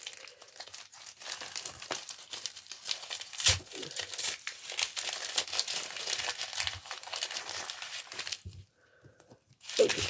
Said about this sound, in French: mais on va le déballer